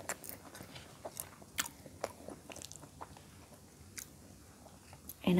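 Close, repeated biting and chewing on eggplant balado with rice, soft crunchy mouth sounds in an uneven rhythm with no speech over them.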